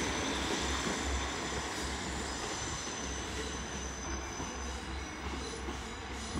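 A passenger train rumbles steadily through Exeter St Davids station, with a continuous rolling roar, faint wheel squeal and a low pulsing hum, heard from close by with no talk.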